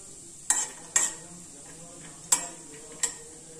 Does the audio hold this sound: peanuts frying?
yes